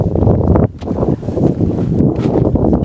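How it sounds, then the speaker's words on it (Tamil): Strong outdoor wind buffets the microphone on a walk near a well among sweet lemon trees in Dharmapuri, a loud continuous low rumble of gusts that dips briefly then roars on steadily throughout. "ஏன்னா ஓவராக காற்று சவுண்டு கேட்குதுன்னு பார்த்தீங்களா"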